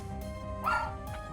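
A pet dog gives a few short yipping barks under steady game music, the middle bark the loudest.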